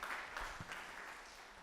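Audience applause at a chefs' event fills the whole moment, a steady dense wash of clapping with no voices over it.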